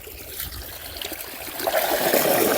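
Water gushing steadily from a farm well pump pipe in a village, a continuous splashing stream that grows a little louder and fuller toward the end, with no voices.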